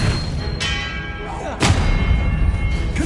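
A spell cast in Hogwarts Legacy sets off sharp ringing impacts, with a metallic chime, a bright crack and then a heavier whooshing thud amid low game rumble.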